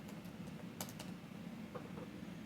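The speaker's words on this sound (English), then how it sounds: "So I'll just type that in." A few quiet computer keyboard keystrokes, light scattered taps over a low steady hum as a place name is entered into a web form.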